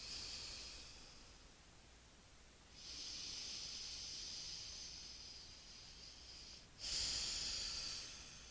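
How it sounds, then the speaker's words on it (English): Slow, steady breathing during a yoga hip stretch in a forehead-to-mat or forearm pose, soft airy inhales and exhales in long swells, close and quiet with no talking. "Slow, steady breathing here."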